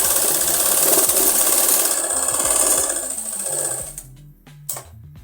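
A sewing machine stitches the front panel of a kurta, running with a steady rapid mechanical chatter close by, then slowing and stopping with a few final clicks.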